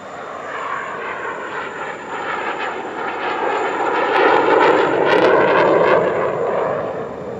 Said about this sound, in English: L-15, also known as the JL-10, was designed primarily as a lead-in fighter trainer for the People's Liberation Army Air Force